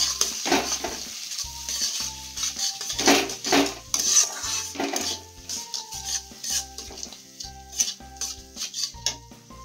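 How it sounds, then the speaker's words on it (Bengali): Ginger-garlic paste sautés over a low flame for matar paneer, with a spatula scraping and clinking steadily against the pan in quick repeated strokes above a soft, continuous sizzle. No voices are heard. "একদম লো ফ্লেমে রেখে মশলাটা আমি করছি যাতে ধরে না যায়।"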